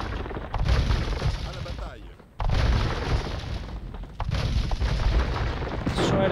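Cannons in Age of Empires 2 pound towers and a castle during the Siege of Paris mission, three long sustained rumbling barrages in succession, loud with brief gaps between them.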